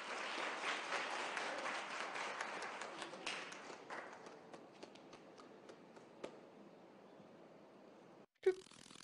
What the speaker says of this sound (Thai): ขอเสียงปรบมืออีกครั้งครับ